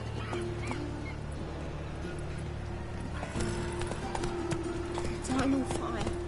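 Roach the horse from The Witcher 3 video game trotting, with steady clip-clopping hooves running under game music and character dialogue throughout.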